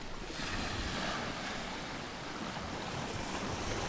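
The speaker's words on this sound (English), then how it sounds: "There's some sort of waves and synchronization, and the boat just sails through it fine." Sea waves wash continuously around a sailboat sailing almost dead downwind in about 8 to 12 knots of wind over roughly 3-foot seas, with a broad steady hiss mixed with wind noise and no talking.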